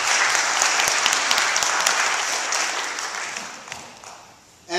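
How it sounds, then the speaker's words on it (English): An audience claps throughout a presentation on Bhutanese people, a thick burst of applause that holds steady, then thins and fades toward the end before a sudden sound at the close. "So let's give them a round of applause for that."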